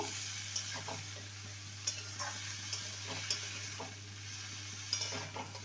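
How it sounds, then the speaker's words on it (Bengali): Spice paste fries with brinjal in a pan, a quiet sizzle under a low steady hum, punctuated by occasional spoon scrapes and clinks as it is stirred. "যে মশলাটা রেডি করে রেখেছিলাম সেটা দিয়ে দেব ভালো করে কষিয়ে নেব"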